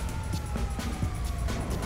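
A police car siren in GTA5 wails steadily with a sustained tone, heard over rumbling engine noise and a few sharp knocks.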